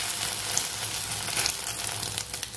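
Egg batter fries in hot oil in a wok with a steady, close hiss and crackle, continuous and even for a couple of seconds with no voices.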